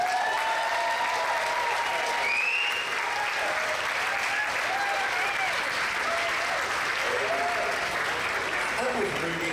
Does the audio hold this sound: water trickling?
no